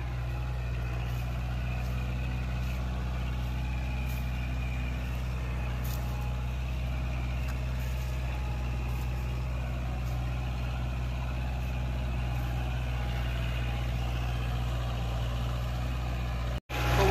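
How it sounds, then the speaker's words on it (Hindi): A Kubota 4501 tractor pulls a harrow across a field, its diesel engine a steady, loud, low drone that holds unchanged for the whole stretch before cutting off abruptly near the end. "ये देख सकते हो परफॉर्मेंस इसका ट्रैक्टर का हैरो पे"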